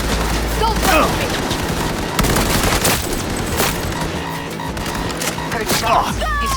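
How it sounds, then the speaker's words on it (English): Gunfire in the video game Cyberpunk 2077, loud sharp shots and bursts scattered across a dense, cluttered game soundscape with booms and debris. "Heard shots."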